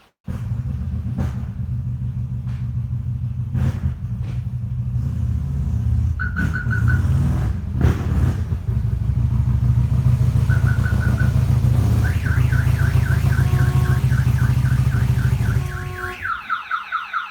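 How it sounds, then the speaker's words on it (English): Car alarm blaring nearby over a low engine rumble, cycling through repeating siren tones and warbling patterns for several seconds before cutting off. "Setting off the alarm."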